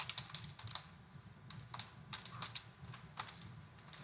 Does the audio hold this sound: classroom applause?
no